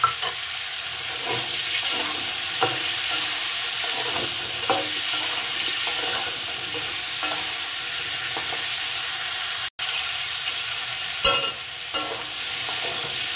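Prawn and stem curry being sautéed in a pan, a loud steady hiss of frying with soft periodic scrapes of the spatula, a brief cut in the sound and a few clinks near the end.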